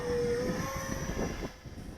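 An Arrows RC Viper electric jet model flies past, its ducted-fan whine steady and fairly loud with a slowly shifting tone, no voices.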